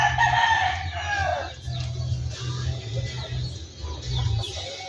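Backyard rooster crowing among hens, a drawn-out crow close by with clucking and fowl chatter around it, loud and clear with no talking.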